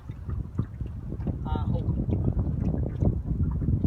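Steady wind buffets the microphone on a fishing boat on the water, with a low broadband rumble throughout and someone speaking briefly over it.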